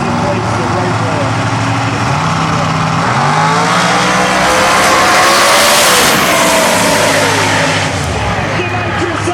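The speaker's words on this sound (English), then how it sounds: "The nitrous oxide backfire!" A Pro Mod XDR drag racing car at an eighth-mile heads-up event roars loudly past with a nitrous oxide backfire, engine pitch shifting as it passes; an announcer talks excitedly over the continuous racing noise.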